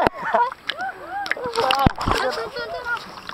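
Someone jumps into a river in Calumpit, Bulacan, where the water is thick with water lilies, making a short splash and sloshing amid excited shouts and chatter from nearby youths.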